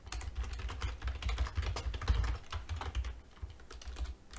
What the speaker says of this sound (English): Typing is our specialty.